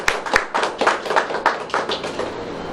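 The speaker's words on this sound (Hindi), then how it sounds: "एक बार तालियां हो जाए उनके लिए" Clapping for Dinesh Gupta at a welcome event, a run of crisp, fairly regular claps from a few people close by, mildly uneven in rhythm, with no talk over it.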